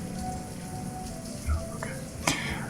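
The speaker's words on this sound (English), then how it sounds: "It is raining very hard." Heavy rain pours down in the village-building video game Banished: a steady, dense hiss of downpour that holds evenly throughout, with a couple of soft brief knocks near the middle and end.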